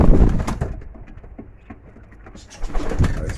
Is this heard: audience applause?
no